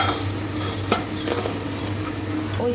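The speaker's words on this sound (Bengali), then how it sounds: "ওপারটাও এরকম লাল করে ভেজে নিতে হবে" Pea lentil fritters (motor dal bora) frying in hot oil, a steady close sizzle with occasional stirring and light scraping in the pan, no talking.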